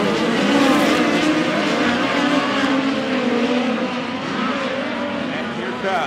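POWRi midget race cars roar around Valley Speedway in a continuous loud wash of engine noise, with cars sweeping past and a constant rumbling roar throughout.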